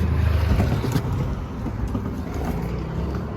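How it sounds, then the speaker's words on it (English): A Volkswagen Golf Mk5 with a major oil leak idles after start-up, giving a steady, moderately loud low engine rumble with no speech. "So I've got the engine running."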